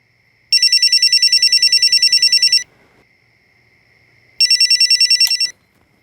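An old-style telephone bell rings loudly in two long, rapidly trilling bursts separated by a quiet gap, in a crime drama scene.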